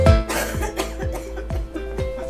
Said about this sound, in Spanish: Solo es un poco de tos, hijo.